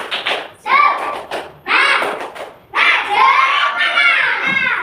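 A class of schoolchildren shouts a rhythmic spirit chant in three loud bursts, their voices close and bright, with claps and thumps marking the beat.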